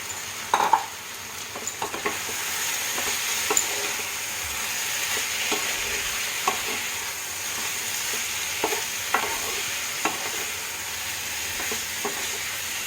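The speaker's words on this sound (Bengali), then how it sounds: "ভালো করে আমি মশলাটার সাথে কাঁকরোল আর আলুটাকে একটু কষিয়ে নেব" Fried spiny gourd and potato sautéed with spice paste in hot oil give a steady, loud sizzle. Regular scraping strokes of a spatula against the pan break through the sizzle, and no one speaks.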